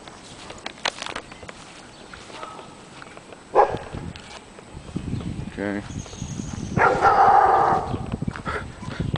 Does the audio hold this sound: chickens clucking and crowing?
no